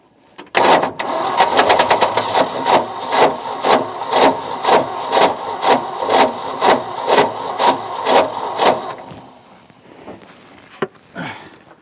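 Ford F600 U-Haul truck engine, sitting unused for 20 years, cranks on its starter without catching: a loud, steady series of rhythmic churning pulses for about nine seconds, then a short pause and a final brief crank.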